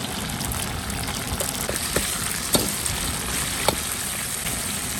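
Lean pork frying in a wok with fermented black beans and broad bean paste, a loud, close, continuous sizzle broken by occasional sharp spatula clinks and stirring scrapes.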